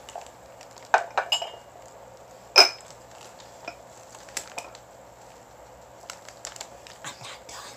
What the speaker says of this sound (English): Four plates with the creamer, with the sugar bowl